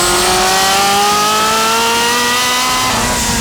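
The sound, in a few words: twin-turbo Ferrari 348 Challenge engine revving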